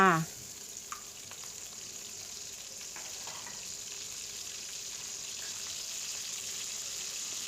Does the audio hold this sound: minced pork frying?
yes